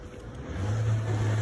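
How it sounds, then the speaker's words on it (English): A car on a residential street in the Bronx, New York, approaching with a low engine rumble that grows steadily louder over a second and a half, with faint street ambience behind it. "I hear a car coming."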